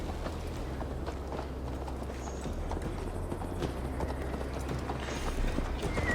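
Galloping horse hooves in Assassin's Creed Valhalla, a steady rapid clip-clop close up that runs continuously over a low rumble of ambient game sound, with no voices.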